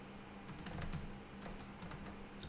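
Someone types on a computer keyboard, a quick run of close, light key clicks in uneven bursts against a quiet room, with no talking.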